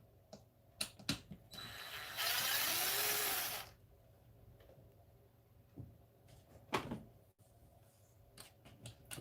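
Parts of a 100mph RC car's rear end are pulled apart and unscrewed, with scattered clicks and ratcheting taps around a sustained whirring burst of a power driver, close and fairly quiet.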